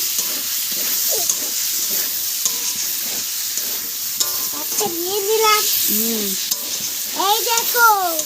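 Potatoes frying with spices in a pan, a steady broad sizzle with scraping stirs throughout, while a voice speaks intermittently over the cooking.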